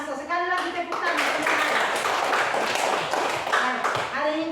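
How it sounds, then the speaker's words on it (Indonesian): A classroom of young students claps together in a dense burst of applause, with a teacher's voice speaking over the start and end of the clapping. "Sekali lagi tepuk tangan."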